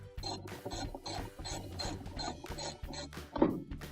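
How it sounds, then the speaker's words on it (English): A hand ratchet clicks in rapid repeated bursts while loosening the bolt that holds down a washing machine's agitator, sounding close and steady, with a heavier clunk near the end. "now there's a bolt holding this down, which we'll take out next"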